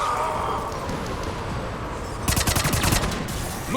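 Rapid automatic gunfire crackles in a video game battle against Cerberus troops with shuttles overhead. Near the end it rises into a loud, fast burst over steady battle noise.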